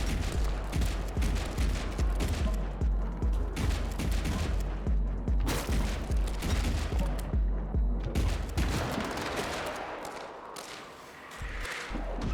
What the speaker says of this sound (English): Now we get these exploding boxes, because no shooter would be complete without